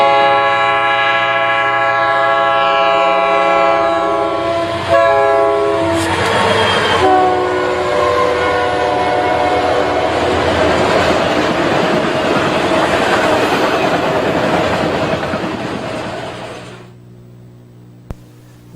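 An eastbound autorack freight train led by a pair of bluebonnet EMD SD40-2 locomotives speeds past a platform in Garry's Mod, horn blaring loudly before the rushing roar and clickety-clack of passing cars, which cuts off abruptly.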